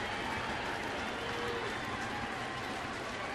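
Baseball stadium crowd at a Milwaukee–St. Louis game applauding and cheering in a steady wash of clapping and murmur, heard from a distance with no talk on top.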